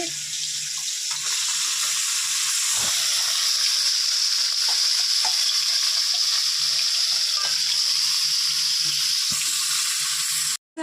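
Fish marinated in salt and turmeric fries in hot oil with a steady, close, hissing sizzle that runs almost unbroken, with a few soft knocks, and no talking.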